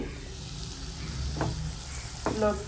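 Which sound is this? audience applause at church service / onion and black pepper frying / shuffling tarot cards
onion and black pepper frying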